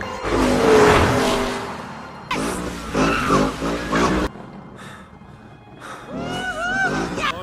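Race cars overtaking on a track in the animated film Cars 3: engines whooshing past and tires squealing, mixed with music and voices talking.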